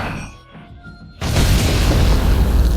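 An explosive super punch lands in GTA 5 with a Sonic movie mod, bursting into a loud, sustained boom that roars at close range after a quieter lead-in.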